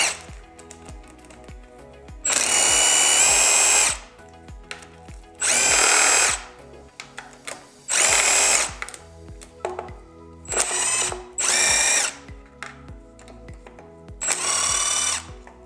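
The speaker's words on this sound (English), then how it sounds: "Now I'm gonna go in and remove the bolts." A power tool spins out the oil pan bolts on a Honda B16 engine in a series of loud, close bursts of a few seconds each, separated by short pauses with small clinks of metal handling.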